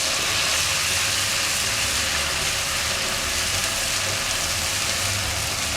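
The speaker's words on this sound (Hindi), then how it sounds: "और थोड़ी देर के लिए हम इसको भी भूनते हैं ताकि लहसुन अदरक की जो स्मेल है वो ख़त्म हो जाए" Ginger-garlic paste frying in a pan with browned onions gives off a constant loud, even sizzle, a steady hiss with no pauses.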